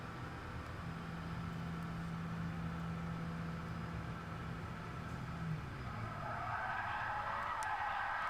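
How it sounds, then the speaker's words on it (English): Car engine in Gran Turismo 7 racing game, a steady monotonous drone with a low hum through most of the run, then brighter tire-skid-like noise rising near the end, continuous and moderately loud. "this car has got a very boring noise"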